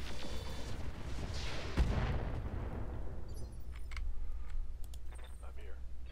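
A mech firing MRM missiles in Roguetech, a rushing launch whoosh that swells and fades, followed by scattered clicks and light impacts, with a voice talking over part of it.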